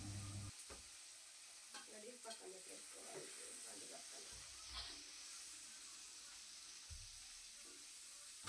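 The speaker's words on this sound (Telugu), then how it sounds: "నూనెలో అడుగంటకుండా ఉండాలంటే కొంచెం పసుపు వేసుకొని వేయించుకోవాలి" Fish pieces fry in oil with turmeric, a steady close sizzle and hiss with occasional stirring and scraping noises, fairly faint overall.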